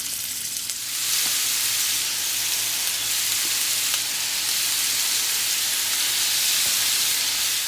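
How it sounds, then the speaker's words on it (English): Stew beef frying in coconut oil in a hot pan, a loud continuous sizzle and hiss that swells as the meat goes in and keeps crackling steadily with no talking. "We're going to add our meat into the frying pan."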